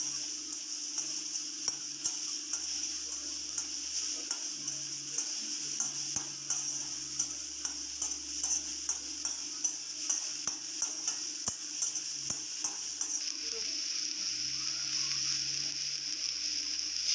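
A spatula stirs ground soybean momo filling in a pan with regular scraping taps. A continuous bright sizzle runs underneath, close and steady for the whole stretch.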